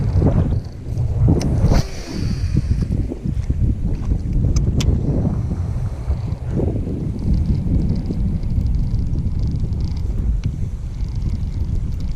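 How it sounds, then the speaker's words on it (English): Wind gusting across a lake while fishing from a boat on a cold day in North Carolina, a steady low rumbling buffet against the microphone with a few sharper gusts near the start. "The wind sucks for y'all and it's cold for me."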